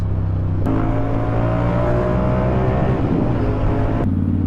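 Porsche Macan engine running close by at an anniversary gathering, a loud steady rev that swells then drops back toward idle, with a sharp cut at each end.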